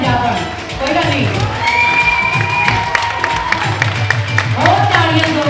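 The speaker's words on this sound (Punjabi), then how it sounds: "ਇੱਕ ਵਾਰੀ ਜ਼ੋਰਦਾਰ ਤਾੜੀਆਂ ਮਿਸ ਪੰਜਾਬਣ" A crowd at a South Asian beauty pageant in Fresno cheers and claps for Miss Punjaban, loud and close, with shouts and whoops mixing with a voice and background music.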